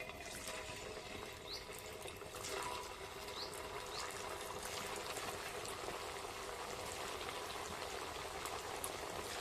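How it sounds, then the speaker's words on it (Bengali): Pumpkin sweets deep-frying one by one in hot oil over lowered heat, a steady soft bubbling sizzle with fine crackles, even and continuous, no voices. "এবার একে একে ভেজে নেব।"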